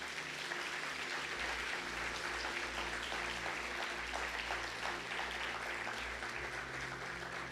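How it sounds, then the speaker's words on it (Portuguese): Church congregation applauding together during a sermon, a full sustained roar of clapping from many people, steady and even throughout, with a low hum running beneath it. "Você poderia dar uma salva de palmas para o Senhor?"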